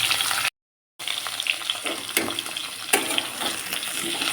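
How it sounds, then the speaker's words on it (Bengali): Vegetables for a spinach ghonto fry and get stirred in a pan, a steady bright sizzle with scraping stir strokes throughout, broken by one brief dropout to silence near the start. "আগে সবজিগুলো ভালো করে ভেজে নেবো, এখন নুন দিচ্ছি না, কিছুক্ষণ পরে নুন দেবো। সবজিগুলো একটু নাড়াচাড়া করে নিই।"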